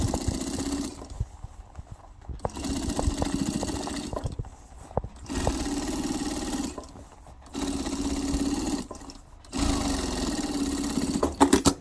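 A sewing machine stitches a hem on faux leather (skaï) trousers, running in four bursts of steady whirring stitching separated by short pauses, close and clear with no talking.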